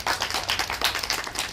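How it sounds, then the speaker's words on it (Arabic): Brief burst of rapid clapping from a small audience in a children's television show studio, steady and fairly close for under two seconds with no talking. "تصفيق"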